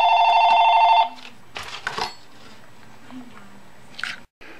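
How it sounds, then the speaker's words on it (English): A mobile phone rings with a loud repeating electronic trill for about a second, then cuts off, leaving faint handling noises and a quiet room. "my phone seems to be ringing off the hook here"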